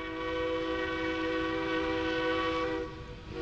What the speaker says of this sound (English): 473, the train's coming in now